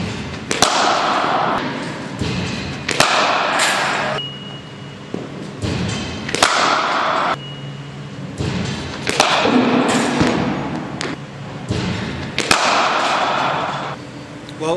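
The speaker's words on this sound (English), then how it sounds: "Hit a lot of balls there, bit of spin, bit of seam." Cricket bat striking balls in a batting practice session against spin and seam bowling, a series of sharp, loud thwacks spaced every couple of seconds with some lighter knocks in between.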